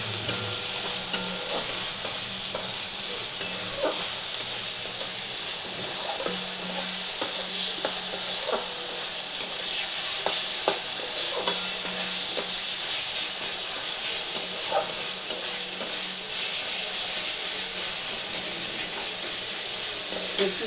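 Spices for a katla fish curry fry in a pan with onion pieces, a steady close sizzle broken by repeated scraping stirs throughout, no talking.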